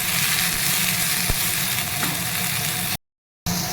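Coriander leaves and tamarind sauté in a hot pan for a Karnataka-style spicy green tomato chutney, giving a steady, continuous sizzle and crackle close by, with a brief cut near the end.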